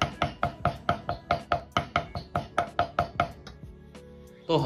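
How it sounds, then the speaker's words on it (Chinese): Finely chopping and mincing lean pork with a knife on a cutting board: a steady run of about sixteen sharp, even chops, close and loud, slowing toward the end before a short final knock. "先改刀切成細絲，再切成末，偏粗的一定要剁細點。"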